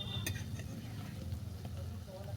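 Taro fritters (kochu bora) fry in hot oil, giving a soft, steady sizzle with a few faint crackles and clinks, heard close and alone.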